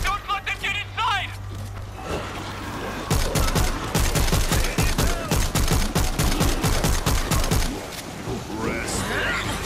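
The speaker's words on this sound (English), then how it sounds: "We're hearing gunfire from the river." Rapid bursts of automatic gunfire in the video game World War Z crackle in a fast repeating rhythm, loud and close, with game-like ambience and a brief voice at the start.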